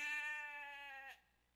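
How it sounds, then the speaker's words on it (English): A single sheep bleat from the Age of Empires video game, a clear, moderately close wavering cry lasting about a second before cutting off. "Still a scouting sheep, by the way."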